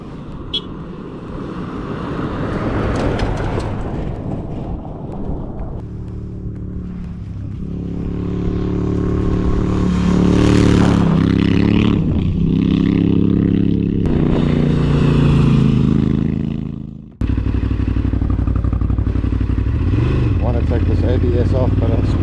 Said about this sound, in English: Here come the bikes.